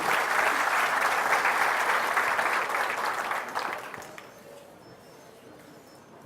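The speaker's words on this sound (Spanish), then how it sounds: "un fuerte aplauso para el doctor Alexander Eusebio" A seated audience at a school talk gives a speaker strong applause, dense clapping that holds for several seconds, then fades out to quiet room tone.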